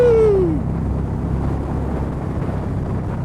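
Riding on a 2019 Indian Springfield Dark Horse 111 motorcycle: a loud, steady low engine rumble mixed with wind buffeting, with a brief falling whine at the start that settles into a continuous drone.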